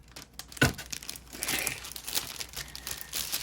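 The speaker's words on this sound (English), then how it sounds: "Watch me rip the bag now." A plastic bag is ripped open up close, with a sharp tearing snap followed by a few seconds of loud crinkling and rustling plastic.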